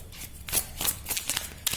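A deck of tarot cards is shuffled up close, quick papery riffles and slaps in short bursts over under two seconds.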